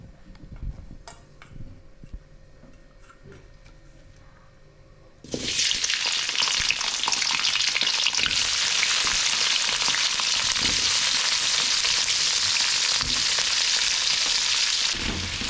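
Chopped capsicum dropped into hot oil, a quiet start with light clinks before a loud, steady hissing sizzle bursts in and continues close up, with occasional stirring taps, no talk.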